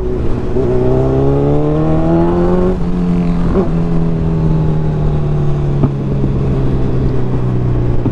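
A Kawasaki Z1000R motorcycle engine runs close by after a cold start, its steady idle rising and dipping in pitch with a few light blips of the throttle.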